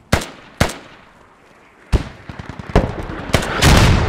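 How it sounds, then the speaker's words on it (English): Enemy mortar fire in the Squad tactical shooter game: a string of sharp, booming impacts, two early blasts, then heavier rumbling explosions spread across the stretch, loud and close with no talk. "those are enemy mortars"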